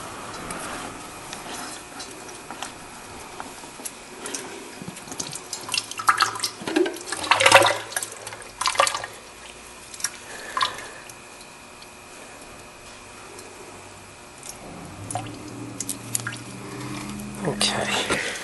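Engine oil drains from the oil filter housing of a 2006-2014 Lexus IS250, heard as soft irregular drips and ticks, faint and intermittent, with a person talking quietly at times.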